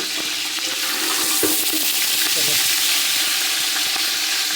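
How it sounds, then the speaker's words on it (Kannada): Cloves and cinnamon sizzle in hot sunflower oil for biryani, producing a loud, continuous close-up frying hiss with a few stirring scrapes. "ಸನ್ಫ್ಲವರ್ ಎಣ್ಣೆ ಪಾಡಿಯೆ ಬೊಕ್ಕ ತುಲೆ ಲವಂಗ ಚಕ್ಕೆ ಪಾಡಿ"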